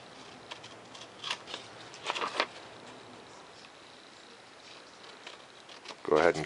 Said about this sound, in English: I'll go in here with my scissors.